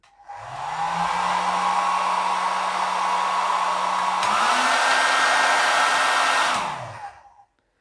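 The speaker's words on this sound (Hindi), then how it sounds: "अब मैं ड्रायर ऑन करता हूं" A hair dryer switches on and blows steadily across a sheet of paper, a loud close whir with a rising pitch shift midway, then winds down and cuts off.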